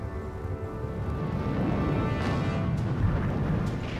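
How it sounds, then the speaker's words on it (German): Rumbling World War I artillery drumfire, cannons firing from all barrels in a continuous dense roar of low booms with no distinct single shots, steady and heavy throughout. "Die Kanoniere schießen aus allen Rohren, um den Vorstoß ihrer Soldaten zu sichern."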